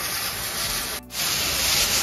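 Fire sprinkler head spraying water, a loud continuous broadband hiss that briefly dips for a moment midway before resuming at full strength.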